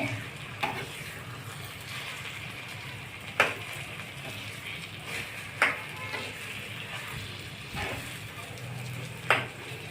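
Raw mango and green chili sautéing in a pan, a quiet continuous sizzle with a few sharp spatula taps and stirring sounds.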